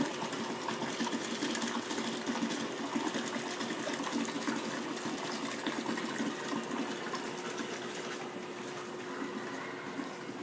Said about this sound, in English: So go ahead and completely fill the bucket without the mop.